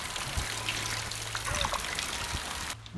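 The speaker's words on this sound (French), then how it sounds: "Là il pleut, donc je vais en profiter pour aller récupérer l'eau de la pluie" Rainwater trickles and drips as it is collected outdoors for a shower, a steady broadband wash with a few distinct drips, moderately close, fading at the very end.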